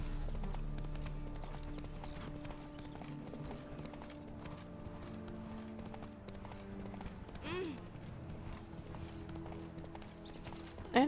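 Hooves of the horse Roach from The Witcher 3 video game clip-clop steadily at a gallop, with a short whinny near the end and game music underneath.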